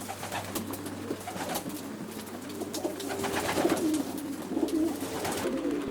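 Racing pigeons, a loft's young birds, coo softly and repeatedly at close range, with low murmuring calls layered over a quiet room background and no talk.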